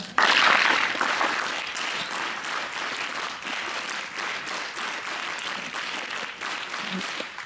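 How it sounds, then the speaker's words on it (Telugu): Sustained clapping from a school audience honoring a teacher at a Mother Language Day event, loud at the outset then steady and dense for several seconds, a crowd of many hands heard in a room. "సో ఒక గట్టిగా Navodaya claps to Venkatadri sir"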